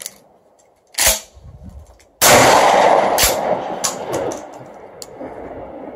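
A wet 12 gauge shotgun firing Federal and Brenneke slugs outdoors, with sharp loud blasts about a second apart, each trailing a short echo, then fainter cracks and reverberation.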